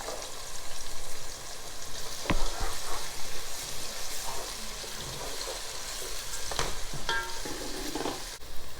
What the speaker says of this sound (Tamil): அதை ஆட் பண்ணுறேன்